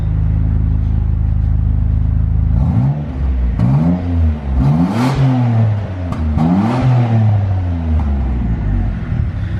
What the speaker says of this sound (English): I think we're safe to give it a couple little revs.